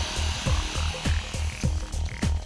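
A heliportable drilling rig bores anchor holes into a rock slope, giving a loud, continuous mechanical roar punctuated by regular rapid percussive hammering strikes, with no voices.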